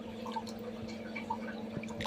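Raw green mangoes being rinsed in clean water, giving soft, steady dripping and light splashing close by with no speech.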